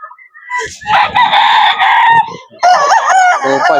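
Roosters crow loudly and close by at a chicken breeder farm in Bocaue, two stretched crows back to back, with some clucking and faint voices behind them.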